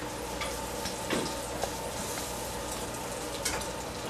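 Veggie chicken nuggets frying in hot oil in a pan, a steady dense sizzle and crackle with occasional louder pops, close and continuous.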